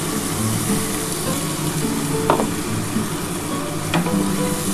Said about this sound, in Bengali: আমি এই মশলার মধ্যে জলটা দিয়ে দিলাম